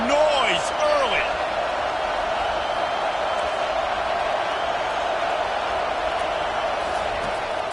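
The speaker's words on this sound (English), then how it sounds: "This crowd bringing the energy and noise early." Stadium crowd noise at an Ohio State football game, a steady, dense roar of cheering filling the whole clip without letup, with a commentator's voice over it early on.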